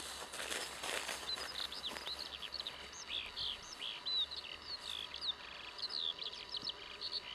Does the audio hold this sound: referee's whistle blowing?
no